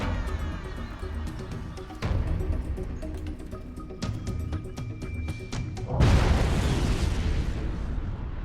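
Detonation of 10 kilograms of high explosive, heard as a series of deep booming blasts at roughly two-second intervals, ending in a larger, louder roar that rumbles on at length.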